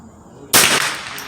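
A single sharp crack from a free-floated Remington 597 semi-auto rifle in .22 LR fired at a range, loud and close, with a brief trailing echo after a quiet lead-in.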